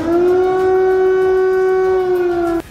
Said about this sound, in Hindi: कीव में लगातार खतरे के सायरन बजने शुरू